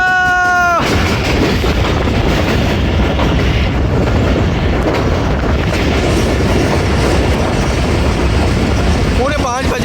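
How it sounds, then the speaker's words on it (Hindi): The Rehman Baba Express, the 48 Down from Rawalpindi to Faisalabad, rolls through Kala Gujran in Pakistan with a loud, continuous rumble and clatter of wheels on rails. A brief tonal horn-like sound opens the passage. "काला गुजरा से पास हो रही है 48 टाउन रहमान बाबा एक्सप्रेस"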